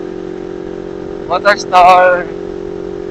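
A Kawasaki Ninja 400 400cc motorcycle engine idles with a steady, even low hum throughout. Someone speaks briefly over it partway through.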